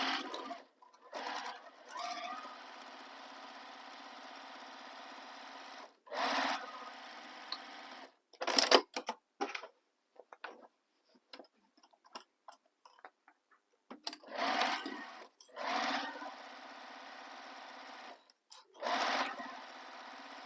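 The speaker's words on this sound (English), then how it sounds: "sew this with the seam allowance given in the pattern" Sewing machine stitching a bag seam in quilting cotton, running in a series of short and longer bursts separated by pauses and soft handling clicks, close and quiet.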